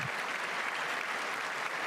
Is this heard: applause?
yes